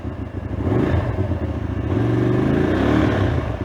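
A Musatti Milano S400 motorcycle with a belt drive and radiator runs steadily, its engine a close, continuous low throb at idle with no voices over it.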